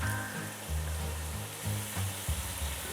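Chicken biryani masala sizzling and frying in a kadhai, a steady moderate hiss with a low hum and occasional stirring shifts, no talking.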